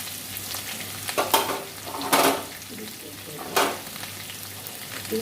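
Potatoes frying in hot oil with green chillies and cumin, a steady broadband sizzle with a few louder bursts of crackle as the pan is stirred, close and alone.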